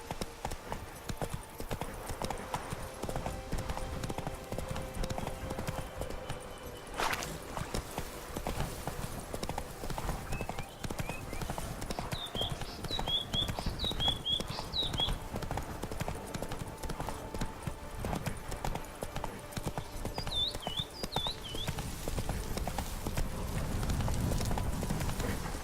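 Hooves of the horse Roach clip-clop in a quick, steady galloping rhythm in The Witcher 3 video game, with brief chirps of game ambience overhead and no clear talk.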